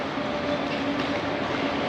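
A FlixTrain long-distance train in Germany fills the space with a steady, even rumble and hiss while moving, with a faint tonal hum underneath and no voices.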